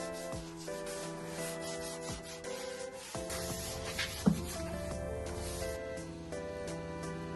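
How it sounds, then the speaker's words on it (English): A Scotch-Brite pad lightly scuffs fresh paint on a 1934 Ford hot rod being given a faux rust patina. Repeated soft rubbing strokes sit under steady background music. "you will need to scuff it lightly with a Scotch-Brite pad"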